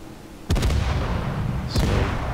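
Warship main guns firing in World of Warships: a sudden heavy boom at half a second with a rolling tail, then a second sharper blast near the end, loud and close with no talking.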